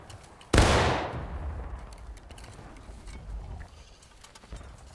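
A single loud musket shot cracks at the start of a War of Rights battle, its boom decaying over a couple of seconds into a rumbling field of distant scattered fire.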